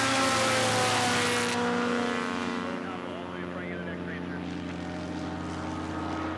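Tail-wheel STOL aircraft race at the 2021 STIHL National Championship Air Races. A steady propeller-engine drone with sustained tonal whine starts loud, then eases and continues at a more distant level under commentary.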